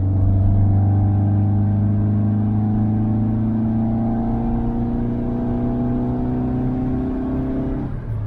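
A 1970s-style Autobianchi A112 Abarth small hatchback cruising at about 80 km/h, a steady loud engine drone with road rumble heard from inside the cabin, holding an even pitch before easing off near the end.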